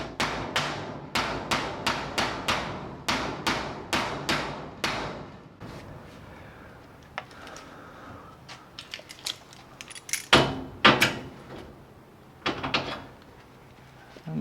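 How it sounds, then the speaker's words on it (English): A hammer strikes a bent metal garage door roller track back into place: about a dozen sharp, evenly spaced bangs, then quieter scattered knocks and a few louder metallic hits, close up. "So grab a hammer, just kind of bang it back into place."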